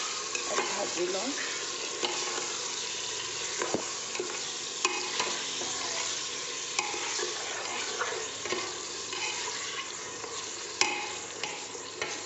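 Goat meat fries in a cooker with a steady sizzle, while a utensil stirs it, scraping and clinking at irregular intervals, close and alone without talk.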